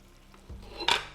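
An oven-safe pan handled in a home kitchen while making baked spaghetti: a soft low thump followed by a brief metallic clatter, close and quiet, with no one speaking.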